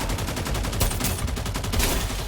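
Rapid bursts of gunfire from a shooting video game crackle continuously at high intensity, overlapping shots forming dense automatic volleys with no pauses.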